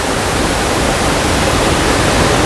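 A waterfall roars in a steady, dense rush of white water, loud and unbroken throughout.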